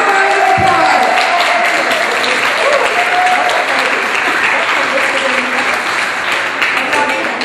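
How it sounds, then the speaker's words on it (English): Audience applause during a crowning ceremony at a church kick-off event, a loud, sustained wash of many hands clapping that carries steadily from start to finish, with a few voices mixed in. "Give her a round of applause."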